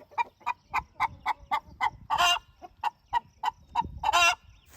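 Big roosters and hens on a porch cluck in a steady, rhythmic series of short, close calls, broken twice by longer, louder crowing bursts.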